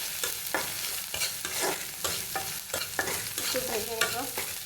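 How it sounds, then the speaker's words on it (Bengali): Ginger and garlic with salt and turmeric fry in a pan, a soft sizzle under regular scraping stirs of a spatula, about two or three strokes a second, close and without talk. "এখন ভালো করে এটা ভেজে নেব।"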